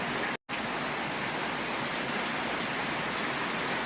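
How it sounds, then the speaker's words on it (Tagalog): Steady rain falls outside a house in a Philippine village, a broad even hiss with no distinct drops, continuous apart from one brief dropout near the start. "Ipapakita ko po sa inyo na umuulan po dito sa barangay po namin"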